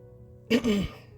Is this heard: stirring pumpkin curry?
no